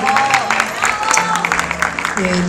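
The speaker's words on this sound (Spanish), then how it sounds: "Un fuerte aplauso para él nuevamente." Audience at a music award ceremony claps steadily and fairly loudly, with sustained music tones running underneath the applause.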